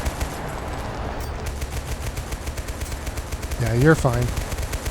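Turret machine gun on a vehicle in the war game Total Conflict: Resistance, firing steady rapid bursts for several seconds while someone speaks briefly over the gunfire.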